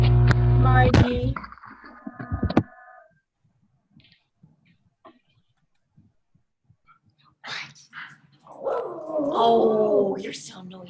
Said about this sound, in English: Is that your doggy, Rosemary? That is.